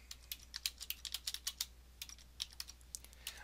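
Quick, irregular keystrokes on a computer keyboard while entering cell text in a spreadsheet, soft and close, with uneven bursts and brief pauses.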